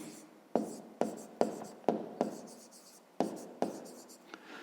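Numbers for a fifth-grade maths exercise written by hand on paper, with a run of distinct tapping pen strokes, each a crisp tick followed by a brief scratch, close and clear with no talking.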